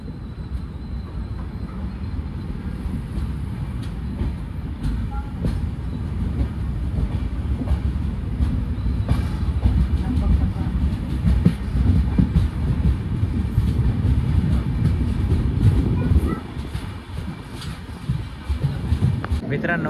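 Shri Ganganagar SF Express running between Hingoli and Washim, a steady, loud rumble of wheels and carriages that rises and falls across the whole stretch, with faint voices mixed in.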